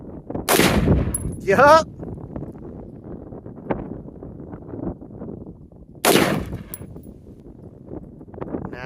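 Two loud, sharp rifle gunshots about five seconds apart, each with a brief echoing tail, with a short spoken word between them and low background rumble throughout.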